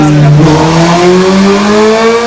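Ducati Diavel Carbon with a MotoGP slip-on exhaust revs hard, a loud, close, rising engine roar climbing steadily in pitch over about two seconds.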